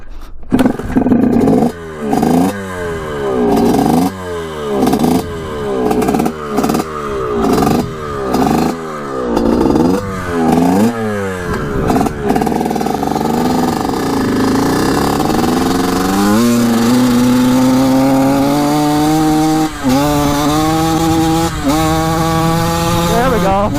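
A Suzuki RM 125 two-stroke dirt bike, running after 15 years, on the choke and short of fuel: a loud, close, raspy engine revving in uneven surges, then a steadier rising drone that keeps sputtering as it climbs.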